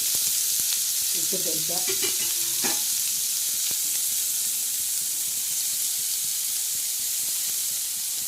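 Chopped garlic sizzling in hot oil in a pan, a steady close frying hiss throughout with brief stirring clinks and scrapes near the start.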